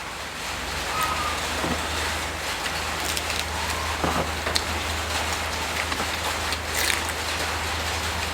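Steady rain falls across a roof or outdoor surface in a Thai street food setting, a continuous dense patter with scattered louder drops. No voices are heard.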